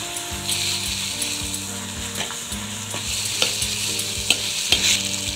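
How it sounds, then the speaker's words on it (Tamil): Chopped turkey berries sauté in a pan with a constant close sizzle, while a spatula scrapes and clacks against the metal at a fairly regular rhythm and a low mechanical whir runs underneath. "இது நல்லா வதக்க கொஞ்ச நேரம் மூடி வைக்கலாம்"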